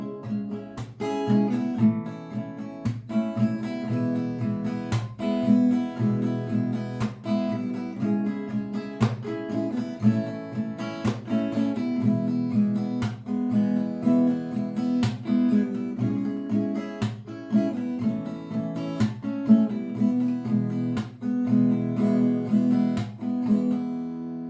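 Acoustic guitar strums a chord progression, with a sharp percussive hit landing regularly about every two seconds; a steady, moderately loud rhythmic pattern played alone.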